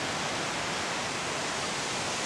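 Laurel Creek pours into the Gauley River in Fayette County, West Virginia, a constant broadband rush of flowing water heard from above, steady and fairly loud with no voices.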